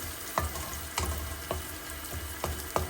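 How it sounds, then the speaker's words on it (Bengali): Onion and garlic frying in oil in a pan, with a steady close sizzle and a few sharp stirring scrapes at an irregular pace, no voices. "অলরেডি পেঁয়াজ রসুন দিয়ে দিয়েছি তেলে"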